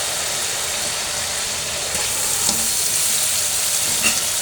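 Meat frying in hot oil with onion paste, garlic paste and garam masala, a loud, dense, steady sizzle heard up close without speech.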